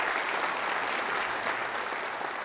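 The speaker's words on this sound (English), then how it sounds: "let's give 2nd and PCH and the people involved a big round of applause" Crowd clapping at a Long Beach civic development update event, a brief, even burst of many hands applauding at moderate loudness with no pause.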